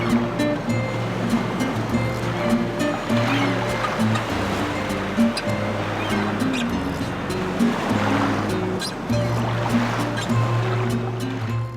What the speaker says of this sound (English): made even better by the sounds of waves crashing on the beach next to you